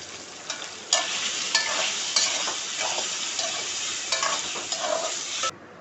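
Soya chaap pieces fry and sizzle steadily in hot oil for several seconds, with occasional stirring scrapes and utensil clinks rising above a constant loud hiss.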